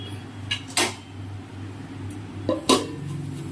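A lid set onto a cooking pot on a home stove, two short clattering metal contacts, one a little after the other, close and fairly loud over a low background hum.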